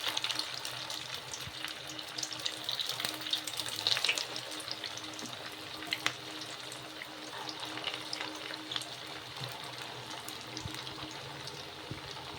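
Fresh coconut vadas drop one by one into hot oil and fry with a steady, close bubbling sizzle that continues evenly throughout, with a few faint clinks and no voices.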